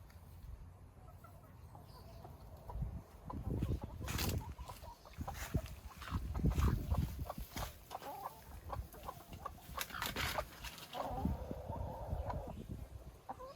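Backyard chickens clucking on a small farm in Puerto Rico, a loose run of short calls and scratchy movement sounds at moderate distance against a steady outdoor background.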